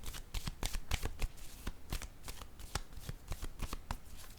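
A tarot deck shuffled and a card laid down, dense continuous riffling and papery flicks at close range, with no voice over it.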